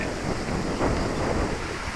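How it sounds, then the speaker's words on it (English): Brutal wind blows by the water on a fishing trip, a steady loud rushing roar with rumble from gusts hitting the microphone, no voices. "this wind was pretty brutal today"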